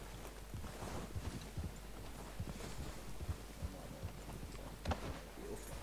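Horse hooves clip-clopping in the Western video game Red Dead Redemption 2, faint irregular hoofbeats over a steady outdoor wind and ambient rumble, with no talk.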